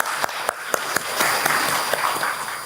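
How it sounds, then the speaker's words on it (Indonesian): A few sharp, separate claps open into a fuller round of audience applause at an Indonesian Dekranas crafts council inauguration ceremony, steady and moderately loud for a couple of seconds. "Boleh tepuk tangannya untuk Dekranas Indonesia."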